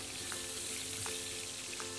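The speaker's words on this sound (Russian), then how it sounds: "на сливочном масле обжариваю булгур 3 минуты." Bulgur fries in butter in a pan with a steady, close sizzle and faint crackling throughout. A few soft stirring scrapes are heard, and no one speaks.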